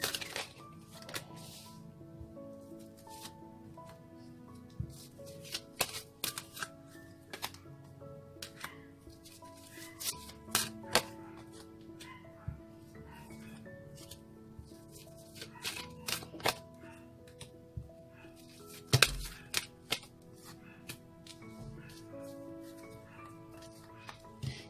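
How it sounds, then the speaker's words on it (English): Tarot cards shuffled by hand, a run of sharp irregular riffling snaps and clicks over a quiet background, close and fairly soft, with clustered bursts spread across the stretch. "So one more shuffle"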